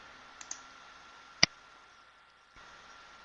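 Mouse clicks while working in Google Docs: two small clicks near the start, then one sharp, louder click over a faint steady electronic hum, otherwise quiet.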